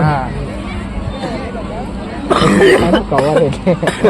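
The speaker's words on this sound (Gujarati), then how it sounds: "ખાધો એટલે ઉધરસ થઈ ગયો" A burst of coughing breaks out amid people talking nearby, with chatter continuing around it.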